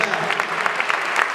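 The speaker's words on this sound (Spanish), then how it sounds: "¿cuántos aplauden al Señor por la verdad?" A church congregation breaks into applause during a Spanish-language sermon: dense, steady clapping from many hands fills the room, close and fairly loud, with a voice faintly present underneath.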